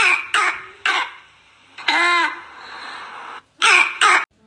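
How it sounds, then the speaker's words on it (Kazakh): A harsh, barking cough of the kind caused by inflamed vocal cords in laryngitis. Several loud, close coughing bursts come separately, with one strained, hoarse breath in between. "Жөтелдің келесі түрі үрмелі жөтел."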